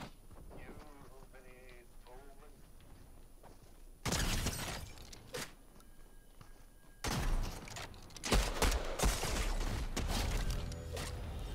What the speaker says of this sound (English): Oh, I'm being shot at again.